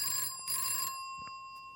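Telephone ringtone triggered in CSC show control software: two bright electronic ring bursts, clean and moderately quiet, followed by faint clicks.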